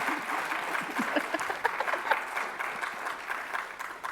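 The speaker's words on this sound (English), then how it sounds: "Round of applause for Robbie Crowther." Audience at a live conversation event clapping for an athlete being introduced, a dense round of applause with a few distinct nearby claps and faint voices underneath.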